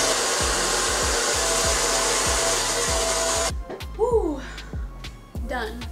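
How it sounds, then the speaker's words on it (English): A Babyliss Pro Nano Titanium hair dryer blows with a loud, steady whoosh, then cuts off abruptly partway through, leaving a voice speaking over a steady rhythmic beat. "my blow dryer is a Nano Titanium Babyliss or Babyliss Pro hair dryer."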